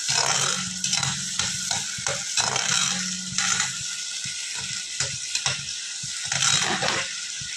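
Tomato and cashew paste fries in a pan with a constant close sizzle, while a spoon stirs and scrapes in quick, irregular strokes.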